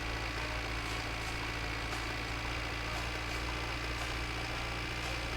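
A tractor engine idles steadily in the winter car game, a constant low rumble with mid-range drone and no pauses, close and loud throughout, with no voices over it.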